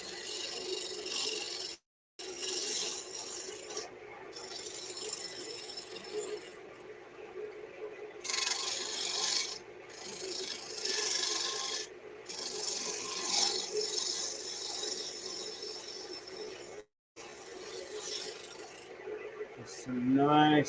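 A piece of wood is shaped and sanded by hand in steady, rasping strokes with brief pauses and some rattling, heard close and moderately loud.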